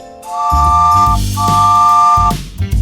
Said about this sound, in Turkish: Bu bir tren. Tren rayların üstünde gider.